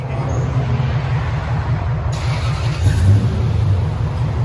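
A Lexus GX 470 with a 4.7L V8 and a muffler delete idles with a deep, loud, steady exhaust rumble, swelling slightly for a moment.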